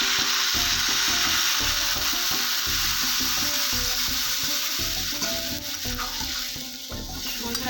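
Mixed vegetables for Bengali shukto sizzle and fry in a pan with spices while being stirred, a steady close crackle broken by repeated scraping knocks of the spoon, with no talking.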